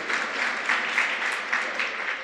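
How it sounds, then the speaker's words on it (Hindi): A crowd at a Jain monk's sermon applauds, a dense, even wash of many hands clapping steadily throughout, near and fairly loud, with no talking over it. "तो फिर ताली बजाओ ना, ठीक था।"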